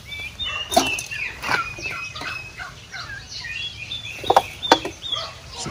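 Several turkeys gobble and cluck nearby in bursts over a noisy outdoor background, with no talking.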